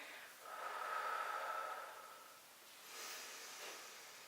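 Deep breathing during an exercise session: a long, hissing inhale swells and fades, followed by a softer breath out, close and quiet with no speech.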